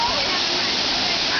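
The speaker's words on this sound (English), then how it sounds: "waterfall." Steady roaring rush of a waterfall at the Seven Sacred Pools in Maui, Hawaii, broad and continuous, heard briefly and up close.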